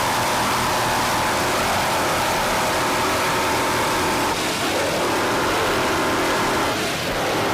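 Racing powerboat engines roar loud and continuous under throttle at a 1990 Freeport, New York grand prix, a dense broadband drone with slight shifts in pitch and no voices.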